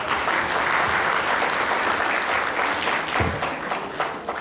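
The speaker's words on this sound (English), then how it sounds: "Huge round of applause for the panelists." Sustained audience applause for a panel of speakers at a film talk, dense and steady clapping filling the room throughout with no voices over it.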